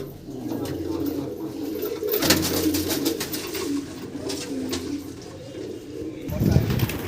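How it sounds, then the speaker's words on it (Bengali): Pigeons coo steadily in a loft housing a tournament racing flock, low murmuring calls layered throughout with a few scattered chirps and a brief flutter near the end, while people talk in the background. "খুব সুন্দর লাগছে সব পায়রাগুলোকে এখন বাইরে ছেড়ে দেওয়া হয়েছে"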